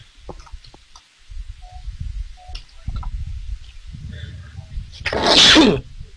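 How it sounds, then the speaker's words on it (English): A single loud, close sneeze bursts out near the end after a stretch of quiet shuffling and soft clicks. "when I was about to sneeze"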